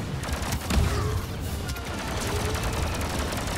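Rapid gunfire and blaster volleys in Star Wars Battlefront II, a dense continuous fusillade with distant booms and a heavier burst near the start, no speech.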